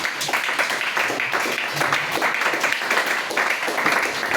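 Church congregation applauding during a French-language worship service, steady rapid clapping from many hands filling the room, fairly close and loud.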